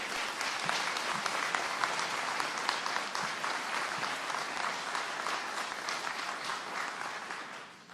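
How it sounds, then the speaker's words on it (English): Sustained applause from a crowd honoring first responders, dense steady clapping at full strength that tapers slightly toward the end. "Please give him a round of applause"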